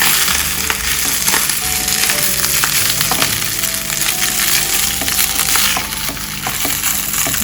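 Raw rice sizzling and crackling in a hot pan while cooking turmeric yellow rice, a steady dense fry with scattered sharp pops and grains scraping, loud and close throughout.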